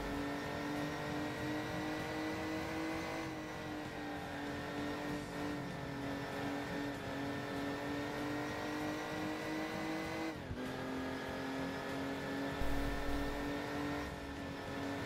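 A car holds a steady high engine drone at speed on the autobahn in the Crash Time driving game, the pitch sliding up and down with gear changes and a brief dip midway, with no talk.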